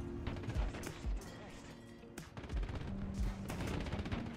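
Gunfire striking a KV-1B tank in War Thunder: a string of sharp shots and metallic impacts at moderate loudness, mixed with low rumble while someone talks over it.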